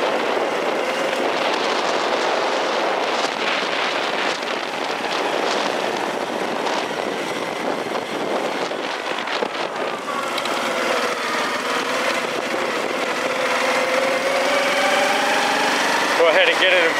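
A 2004 Honda Foreman Rubicon 500 4x4 ATV engine running while ridden, a steady loud drone that holds through a smooth upshift into second gear, with rising and falling engine tones and no clear gear-change clunk.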